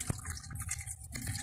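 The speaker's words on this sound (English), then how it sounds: "It's raining inside the apartment." Water leaking inside an apartment, dripping and running like rain or a small waterfall indoors, a steady wet hiss with a few sharper drip taps, fairly close and alone.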